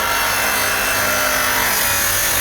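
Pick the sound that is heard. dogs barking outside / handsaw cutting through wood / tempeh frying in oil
handsaw cutting through wood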